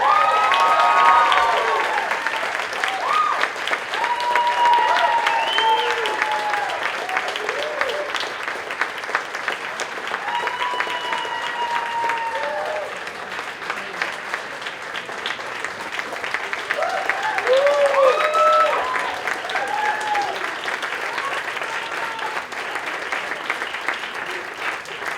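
Sustained audience applause and cheering fill a club concert at a songwriter awards show, steady and loud for about 25 seconds, with whoops and shouted voices rising above the clapping and swelling again near the end.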